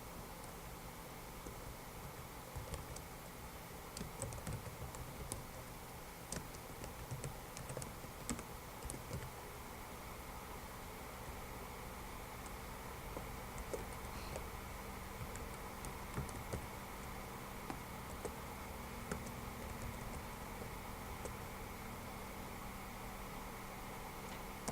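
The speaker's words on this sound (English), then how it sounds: "So type out the code that I type out." Faint, rapid keystrokes on a computer keyboard while HTML code is typed, an uneven patter of clicks with short bursts and pauses under a steady hiss of background noise.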